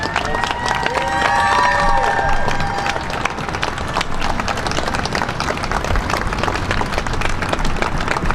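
An outdoor Memorial Day ceremony audience claps and cheers for an award recipient, a dense, sustained round of applause from a crowd with a few voices rising above it.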